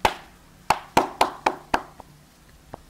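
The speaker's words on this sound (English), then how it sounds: "give a clap." Six sharp hand claps in a loose, uneven rhythm, fairly close, followed by a couple of faint taps as the clapping dies away.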